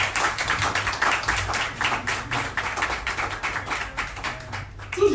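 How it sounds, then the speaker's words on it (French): An audience gives a rhythmic round of applause welcoming candidates at a conference, with claps rising and falling in waves, fairly close and continuous, with no speech. "J'ai envie que vous les accueilliez avec un tonnerre d'applaudissements"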